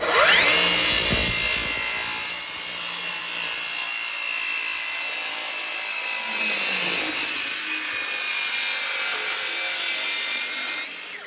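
A battery-powered saw rips through wood for a deck, a loud, continuous high-pitched whine that holds steady for about eleven seconds before cutting off, with no talk.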